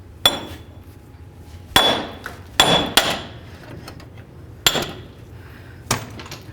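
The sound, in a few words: hammer striking knuckle to break bearing free, Chevy S-10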